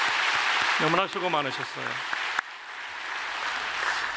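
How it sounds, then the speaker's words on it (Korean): Applause from a church congregation, clapping for elderly members in their eighties and nineties, runs steadily under a man's spoken words and carries on after he stops. "박수로 한번 격려합시다"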